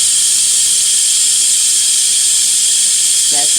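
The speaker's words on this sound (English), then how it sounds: "that's actually the steam coming out of that Instapot. I'm releasing the steam." Steam hisses loudly and continuously from an Instant Pot's pressure release after rice finishes cooking, a close, harsh hiss with a brief voice just at the end.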